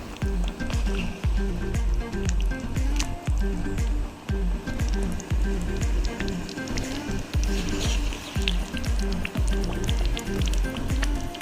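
Chicken wings being stirred in a pot of plain water for a Comorian carrot sauce, a steady rhythmic wet sloshing and squishing repeating about twice a second, close and continuous throughout.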